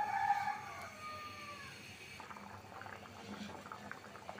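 Hilsa fish curry with snake gourd simmers toward a boil in a pot, giving off soft, faint bubbling and low sizzling that carries on quietly for a few seconds.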